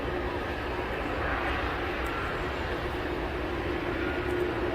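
Boeing Dreamliner aircraft engine at Manchester Airport, a steady broadband roar with a faint tonal whine, continuous and fairly close, with no talking over it.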